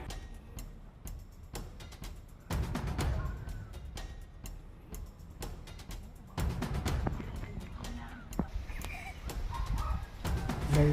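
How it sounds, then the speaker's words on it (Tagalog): Scattered bird calls and chirps sound against a steady outdoor background on a farm, mostly faint and distant, with a few clearer calls near the end. "kung maririnig mo lang po dito, mga huni lang ng mga ibon"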